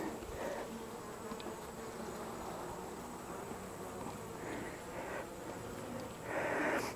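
Honeybee workers hum steadily inside a queenless hive, a continuous low drone of many wings close by with faint rustling, no talking.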